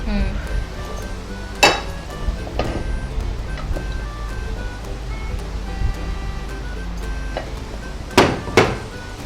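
Metal cooking pans clink and clatter on a kitchen stove while preparing Andhra kanda bachali (yam and spinach), with a few sharp bright knocks scattered among softer handling noise under a steady low background hum.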